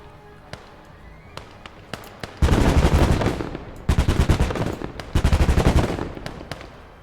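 Video game firefight in a Motherland battle, full of automatic gunfire: a few scattered single shots, then loud sustained bursts of rapid fire, briefly pausing and resuming, close and dominant.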